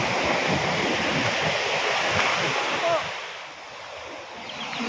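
Loud rushing ocean surf roaring steadily, then easing a little as the wash recedes, heard close with wind noise.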